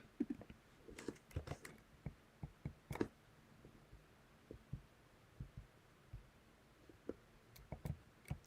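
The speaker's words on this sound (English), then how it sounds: "I'm going to start typing up the results." Faint computer keyboard typing during a live Zwift race commentary, irregular clusters of soft keystrokes tapping quietly over a low background hum, with no talking.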